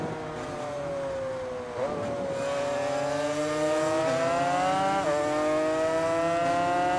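A motorcycle engine in the racing game Ride 5 revs high and steady, its pitch climbing through gear changes with brief dips at shifts, loud and continuous with no talk.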